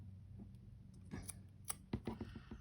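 Scissors snip threads on a sewn cover, several quick, close, crisp cuts in a cluster after a quiet start.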